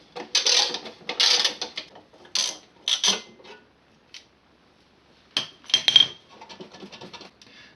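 10mm bolts come out of a VW Golf front fender with bursts of close, crisp ratcheting from a hand tool, separated by short silent pauses and a few light metallic clicks.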